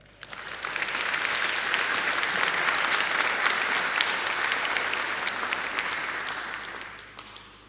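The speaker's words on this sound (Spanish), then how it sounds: "Démosle un gran aplauso, por favor." Audience at the Congreso Futuro 2016 conference breaks into sustained applause, a dense wash of clapping that swells quickly, holds steady, and tapers off near the end.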